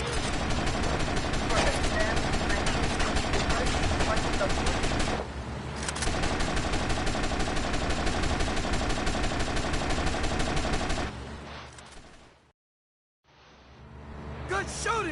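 Gunfire in GTA Vice City: long loud bursts of rapid automatic fire rattle almost continuously, with a brief pause midway and a near-silent gap before firing resumes at the end.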